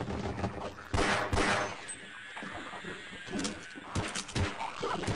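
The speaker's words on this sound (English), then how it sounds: "You sound like you're busy shooting, that's good. I like that sound." An ally's gunfire in the shooter Half-Life, bursts of rapid shots popping over about five seconds, sometimes clustered and sometimes spaced, at mid distance amid game background noise.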